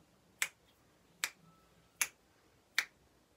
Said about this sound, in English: I'm going to snap my fingers and you're going to keep the beat